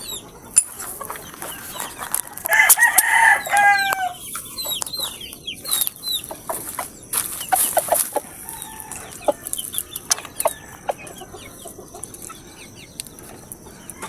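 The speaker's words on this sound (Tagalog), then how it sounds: "Yan yung manok na pina-exam natin ngayon." A fighting rooster recovering from a leg wound after a fight clucks in a few short bursts near the start, with scattered softer clucks and faint background bird sounds over a quiet yard.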